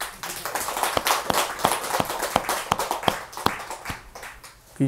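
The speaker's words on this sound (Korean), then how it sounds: "박수 한번 쳐요 우리가." A small group at a Buddhist monk's lecture claps, with distinct sharp claps in a loose, uneven rhythm over softer scattered clapping, fairly close and moderately quiet.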